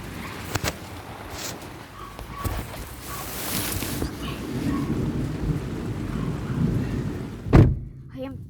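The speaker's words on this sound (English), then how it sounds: "You can hear rain above me." Heavy rain drums steadily on a car roof during a storm, with thunder rumbling at intervals and one sharp, loud crack near the end, heard from inside the vehicle.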